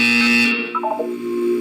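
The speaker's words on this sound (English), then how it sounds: "You will hear a buzzer." A loud, steady electronic buzzer from the video game Portal 2 sounds for about half a second and cuts off abruptly, followed by a short descending cluster of bright electronic tones.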